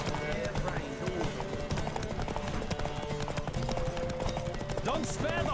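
Galloping horse hooves during a horse race in the video game The Witcher 3, a rapid continuous clip-clop rhythm close and loud, with faint game music and brief vocal sounds underneath.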